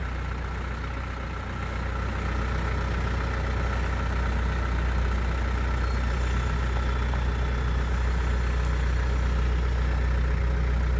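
A tractor engine idles with a steady, low rumble, close and even in loudness, with no voices over it.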